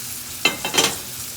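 Veal pieces laid into hot oil in a pan for scallopini, giving a couple of short sizzling bursts that fade back into a low, steady background hiss.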